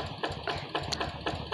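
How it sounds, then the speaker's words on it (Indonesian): A Yanmar tractor engine runs near a rice paddy after two weeks of plowing, its steady mid-pitched chugging pulsing in regular beats with a busy, rough tone. "mesin traktor yang kurang lebih 2 minggu membajak sawah sekarang sudah selesai dan akan pindah pematang"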